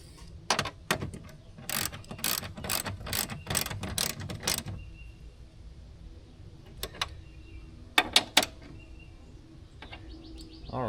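Ratchet tightening the battery terminals on a 2020 Ram 2500 during an H7 AGM battery swap, a rapid burst of close clicking strokes followed by a few short, sparse ratchet bursts later.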